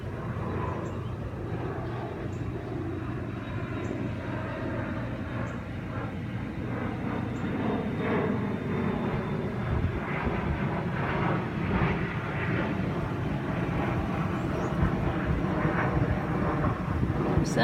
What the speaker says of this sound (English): Besides the airplane noise,